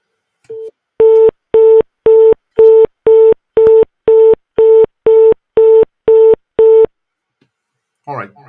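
A browser-placed phone call trying to reach a phone plays a steady, loud repeating tone through a laptop: about eleven even beeps at regular half-second intervals, with a brief burst of other sound near the end.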